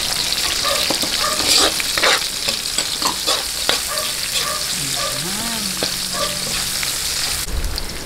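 Chopped onions hiss and sizzle in hot oil in a frying pan while cooking pancit, a steady bright crackle with the scrape of a utensil stirring now and then, up close and without talk.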